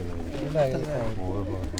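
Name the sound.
pigeons cooing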